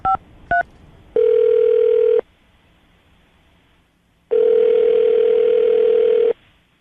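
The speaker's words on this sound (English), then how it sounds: "I'm going to dial the phone number right now" Two quick keypad beeps, then two long steady tones from a telephone line, loud and close, with a quiet pause between them while a phone number is dialled.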